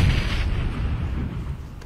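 A thrown grenade explodes in a first-person shooter game, a loud booming blast followed by rumbling low-end decay that fills the whole moment with no voices.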